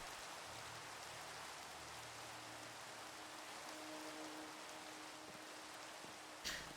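Rain falls in the Minecraft modpack GregTech: New Horizons, a steady soft hiss of rainfall with faint low tones beneath it and a brief thump near the end.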